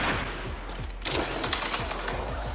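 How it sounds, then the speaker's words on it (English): Automatic gunfire in Apex Legends aimed at a jump pad: a close, loud string of rapid shots, a brief lull near one second, then a denser run of bursts that continues to the end. "An enemy shooting at you? No, that's me trying to destroy a jump pad."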